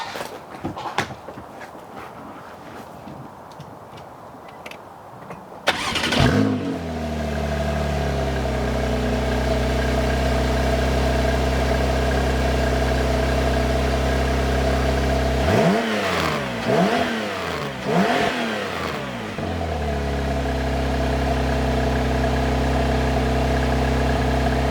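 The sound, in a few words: Porsche 911 991 engine starting and revving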